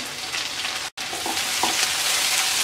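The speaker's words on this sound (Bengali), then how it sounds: "পেঁয়াজ রসুনটাকে হালকা ভেজে নেব।" Chopped garlic and medium onions hiss and crackle steadily in oil after whole spices, with a brief dropout near the first second, then the close sizzle resumes with small stirring clicks.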